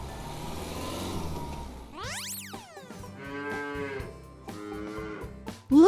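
A large cow on a farm lows loudly in a long, drawn-out moo, preceded by a rumbling vehicle engine and followed by further calls close by.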